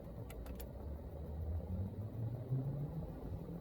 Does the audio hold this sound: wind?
no